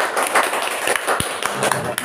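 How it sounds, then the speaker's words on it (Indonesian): A classroom of students applauds a classmate during a microteaching session, with a steady wash of clapping and scattered sharp slaps running throughout, close and fairly loud, with voices mixed in. "Beri tepuk tangan untuk saudari Yuyun."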